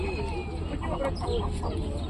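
Chickens cluck softly nearby over a dense market hubbub at a poultry show in Ovidiopol, short calls repeating irregularly.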